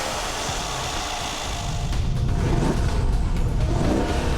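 Twin-turbocharged 4.6-liter V8 of a 2013 Mercedes-Benz SL550 revving up, a steady loud engine roar that swells and grows stronger about halfway through, heard close with no voices.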